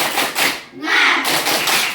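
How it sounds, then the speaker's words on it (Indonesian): A school group claps out a rhythmic 'tepuk semangat' spirit chant in bursts. There is a brief pause midway, and voices chant along with the claps. "mari kita melaksanakan tepuk semangat"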